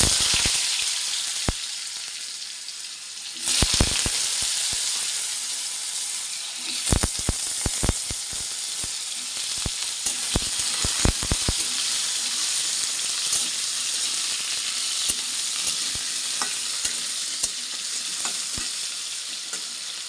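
Soybean and potato curry sizzles in a pan, a dense continuous frying hiss broken by scattered sharp crackles and pops and occasional stirring scrapes, close and loud.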